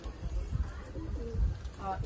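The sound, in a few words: pigeons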